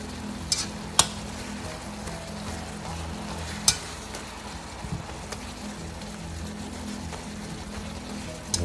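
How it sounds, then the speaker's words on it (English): Beef steak for bistek Tagalog sizzles steadily in a pan as it is stirred, with a soft continuous fry and a few sharp scraping clicks scattered throughout. "by mixing it, you're helping to get those liquid evaporate from the meat"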